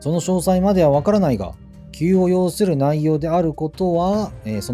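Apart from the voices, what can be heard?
No everyday noise stands out behind the speech.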